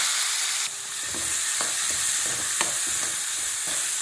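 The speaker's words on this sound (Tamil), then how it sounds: "கொஞ்சம் வதங்கட்டும் அது வெங்காயத்தோட அந்த பச்சை ஸ்மெல் போகிற வரைக்கும் வதக்கிக்கிட்டா போதும்" Onion, green chili and curry leaves sauté in hot oil, making a steady close sizzle broken by a regular series of spoon scrapes and stirring knocks against the pan.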